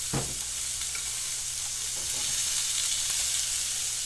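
Steak and onions sizzling on a hot griddle, a steady close crackling hiss throughout with a few faint scrapes, no talk.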